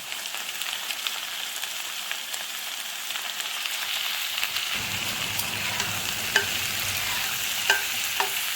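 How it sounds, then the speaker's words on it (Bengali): Potato and pointed gourd fry in a pan, with steady hissing sizzle throughout; midway brinjal goes in and the sizzle thickens, with occasional stirring clicks and no talk. "পটল আলুটা একটু ভাজা ভাজা হয়ে গেছে, এখন আমি বেগুনটা দিয়ে দিচ্ছি।"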